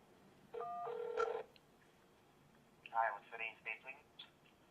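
A Palm Pixi smartphone on the Sprint CDMA network places a call, with a brief burst of electronic dialing tones followed by a faint, tinny voice coming through the phone earpiece.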